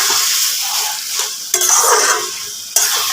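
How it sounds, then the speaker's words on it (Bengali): Taro leaves hiss and crackle in a pan as they are stirred to dry off the water, a close, bright sizzle with a couple of sharp clacks of the utensil against the pan. "এরকম নাড়াচাড়া করে সুন্দরভাবে কিন্তু একদম জলটা শুকিয়ে নিতে হবে"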